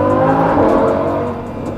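A Lamborghini Huracan engine revs hard and loud in a tunnel, its roar booming and echoing, easing slightly toward the end.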